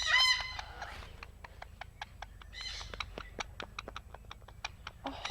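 Yellow ringneck parakeet making a soft, rapid purring trill while its neck is rubbed, a steady run of close, short pulses after a brief chirp at the start, with no talking.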